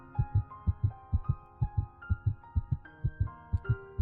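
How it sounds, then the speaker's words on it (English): Steady, evenly paced heartbeat effect from a video game, loud double thumps repeating about twice a second over a soft sustained musical tone that shifts pitch, with no talking. "you can feel your heart pounding louder and louder as you lean against the wall"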